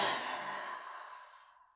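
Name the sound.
forceful exhale with a ha sound, breathing exercise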